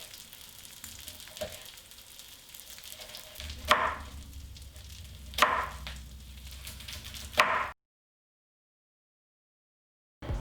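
Black bean veggie burgers fry in olive oil with a steady low sizzle and a few sharp spatula clinks, before the sound cuts to near silence.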